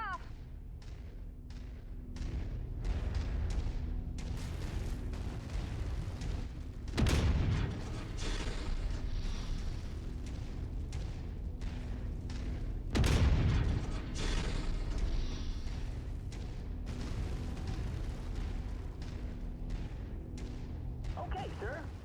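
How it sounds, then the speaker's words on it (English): Ammunition cooks off inside a mech in the game MechWarrior 5, two heavy booming blasts standing out against a steady stream of clattering weapon fire and mechanical noise. "Ammo just cooked off."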